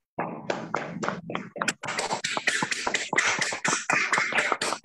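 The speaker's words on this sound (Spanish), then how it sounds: "le demos un aplauso al doctor Fernando Aguirre por esta gran conferencia" Online audience applauds through open microphones after a lecture on psychiatry and psychology, scattered uneven clapping from several participants, some harsh and clipped, in irregular bursts.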